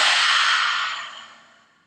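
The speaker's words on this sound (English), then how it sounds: "Take a deep breath in and let it out." A long breath is let out in a kids' yoga rainbow-breath exercise, one soft, airy exhale heard close that starts strong and fades away to silence.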